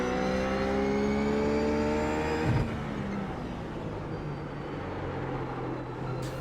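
A RUF race car in iRacing lapping Zandvoort, its engine holding a loud, steady tone with a sharp gear change partway through, then pulling on at lower revs with a slight rise near the end.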